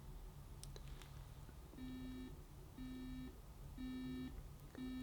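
A BUSH DAB USB clock radio alarm beeps in evenly spaced groups of short tones, about one group per second, against faint background hiss, the beeps growing slightly louder as they repeat.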